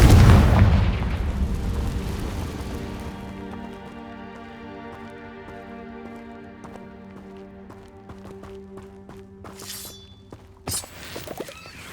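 Confringo explosive spell cast in Hogwarts Legacy: a loud booming blast at the start that decays over a few seconds into a lingering tonal ringing, then a sharper crack near the end.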